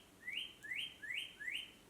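Four evenly spaced rising chirps from a bird outdoors, clear and fairly faint against a quiet background, with no voices.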